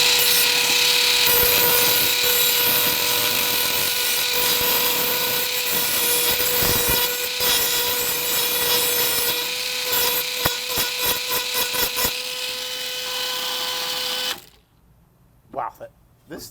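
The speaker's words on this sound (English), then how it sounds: "let's just see if we can grind this off now" Ryobi 18V cordless rotary tool grinding a piece of wood, a loud, steady high-pitched whine with rasping bursts for about fourteen seconds, then cutting off abruptly into near silence with a few faint knocks.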